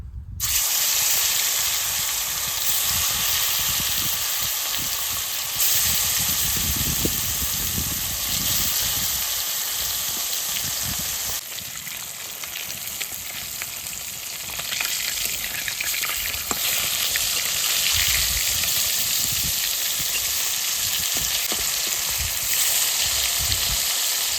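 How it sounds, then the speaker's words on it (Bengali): Fish fries in oil in a hot pan, a loud continuous sizzle and hiss close by with shifting bursts of spattering, running for the whole stretch without voices. "এবার তেল দিয়ে মাছটা ভেজে নেবো আমি"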